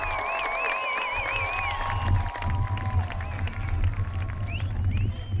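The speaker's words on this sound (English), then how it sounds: "Please give a round of applause for this year's homecoming royalty." A crowd at a college football game applauds and cheers the homecoming royalty, with clapping and scattered whistles and whoops alongside some talking, sustained over several seconds.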